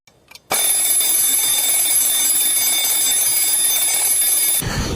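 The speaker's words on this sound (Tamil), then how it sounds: "இந்த அலாரம் வேற அடிச்சுட்டே இருக்கு" An alarm clock rings continuously and loudly with a steady, high-pitched electronic tone for several seconds, then stops abruptly.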